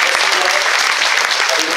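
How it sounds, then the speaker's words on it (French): Loud, close applause from a festival audience after a film debate, brisk dense clapping that stays even throughout the short stretch with no talk over it. "je crois qu'on peut l'applaudir encore une fois"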